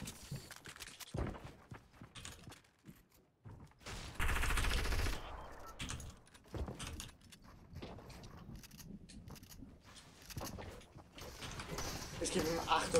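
Rapid gunfire crackles through a Fortnite solo match, with dense bursts of shots and a heavy volley near the middle, while a voice talks over the clatter.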